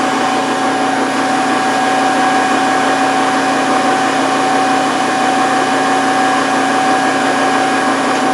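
A steady LT230 transfer-case drivetrain motor drones loudly and continuously with a constant pitch and a faint high whine, no change in speed throughout.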